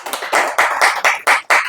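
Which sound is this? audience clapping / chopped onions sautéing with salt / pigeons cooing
audience clapping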